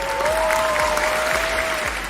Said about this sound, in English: I hear the crowd roar.